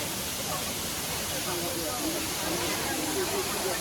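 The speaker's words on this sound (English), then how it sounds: "So this is the Yinhe Falls and the Yinhe Temple just here." The Yinhe Falls waterfall beside a temple on a Taipei hiking trail pours as a dense, constant roar of broadband rushing water that holds steady throughout.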